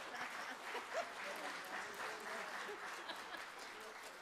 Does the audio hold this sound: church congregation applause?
yes